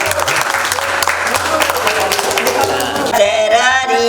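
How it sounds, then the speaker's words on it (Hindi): Loud clapping along in an ashram devotional gathering, with claps over singing voices and musical accompaniment, then the music carries on as the clapping drops back. "ताली बजा"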